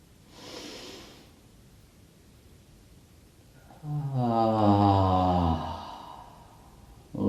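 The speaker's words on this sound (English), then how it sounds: "Inhale. Big exhale." Pranayama breathing in a class: a short breath, a pause, then a deep inhale followed by a long, loud, sighing exhale, close and alone, with another breath starting at the end.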